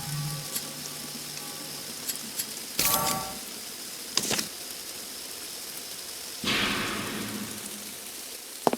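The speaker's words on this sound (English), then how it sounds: "It's raining." Steady rain falling in the Penny Dreadfuls Sweeney Todd video game, a soft continuous hiss with a few louder bursts of splashing drops standing out over the even background.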